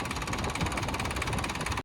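A farm tractor idles steadily after ploughing, giving a continuous close rumble with an even, slightly knocking pulse and no talk over it.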